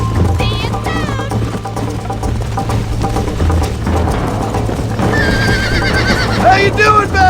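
Horse in the Red Dead Redemption video game whinnying and neighing repeatedly over steady galloping hoofbeats, loud and close, with in-game music and voices underneath.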